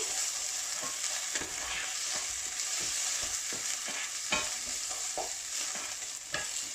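A spoon stirs a fish filling spiced with harissa in a hot pan, scraping and clicking in irregular strokes over a constant close sizzle, with no voices.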